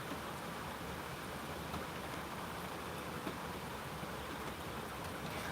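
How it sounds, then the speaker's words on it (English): Steady rain falls outside, a continuous even hiss of drops on surfaces that holds at a moderate, unchanging level throughout with no voices. "Me and Heidi's going to go take a walk in the rain."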